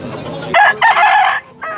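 A rooster crows once, loud and close, at a market in Tabunok, Cebu, in broken bursts with a short tail of clucking, over faint background noise.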